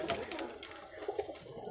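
A Geribaj pigeon gives soft, low cooing in a few quiet repeated phrases, fairly faint and close, with light background noise.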